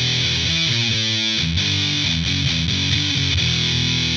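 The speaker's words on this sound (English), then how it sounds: "If you're into rock or metal, then you'll want something with plenty of distortion and drive." A distorted electric guitar played through a modeling amplifier chugs out loud, buzzing chords and riffs in a steady rhythm, with no talking.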